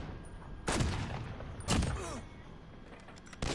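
Three heavy shotgun blasts ring out in a fast-paced video game match, spaced about a second apart, each a sharp loud boom with a short tail over a quiet background.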